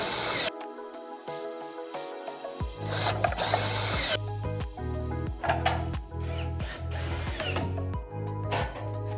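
A power drill drives longer screws to fasten 4x4 fillers inside 6x6 fillers on a Color Guard post mount, with repeated whirring and ratcheting bursts close up and no talk.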